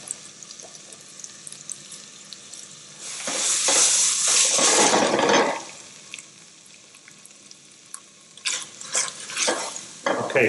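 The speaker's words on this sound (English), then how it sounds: "Just get that cuttlefish cooking before the stewing process happens." Cuttlefish cooking in a pan over high heat with tomato paste, white wine nearby, in a seafood kitchen: a loud surge of hissing sizzle and stirring mid-way, then lighter scraping and clatter of utensils, faint background voices.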